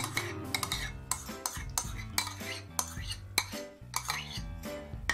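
A spoon stirs yogurt and cream together in a bowl to make a spreadable cheese, giving a steady run of light clinks and scrapes against the bowl, with music playing underneath.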